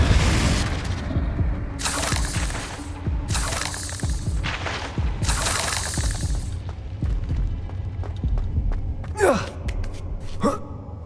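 Confringo explosion spell cast in the Hogwarts Legacy video game, loud bursts and whooshing blasts repeating amid rumbling combat, with whistling magical streaks near the end.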